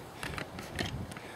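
Upper and lower halves of an AGM MP40 airsoft gun are pulled apart, giving a few quiet, close plastic-and-metal clicks and creaks spread over about a second.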